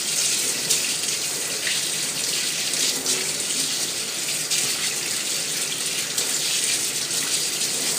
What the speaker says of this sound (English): first I'm going to wash off the majority of this nastiness before I take some soap to it